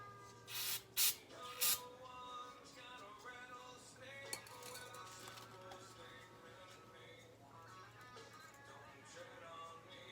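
A Craftsman snowblower gets a cleaning spray-down: three short hissing spray bursts at the start, then a faint, steady tonal hum carries on quietly.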